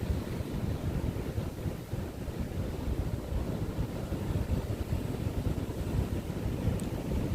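Gusty wind roars on a windy day during a drone flight with a DJI Mini 3 Pro, a dense, steady low rumble of buffeting across the whole stretch, loud and close to the microphone.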